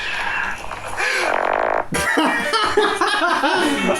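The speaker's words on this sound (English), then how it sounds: "That freaking fart effect, though." A comic fart sound effect edited in, a loud buzzy tone over about a second, followed by a busy burst of other sound and voices.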